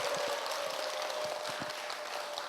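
Dense, steady applause from an audience filling a church lecture hall, continuous and even for the whole stretch with no voices over it.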